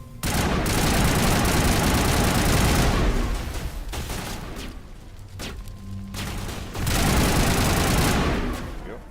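Dense bursts of gunfire in the Mass Effect video game, loud and sustained in heavy volleys with a short lull midway before the shooting resumes.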